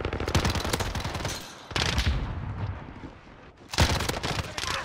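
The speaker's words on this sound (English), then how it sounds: "I'm gonna pre-fire" Rapid automatic gunfire from the video game Modern Warfare, with dense bursts of shots in three loud clusters separated by brief quieter gaps, close and alone.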